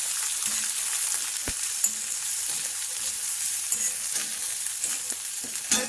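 A green papaya bharta gets mixed with curry leaves and green chili, soft scraping and stirring over a continuous sizzle-like hiss, with a few sharper clicks of a utensil, no voices.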